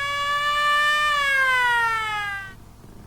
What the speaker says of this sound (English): Some kind of siren.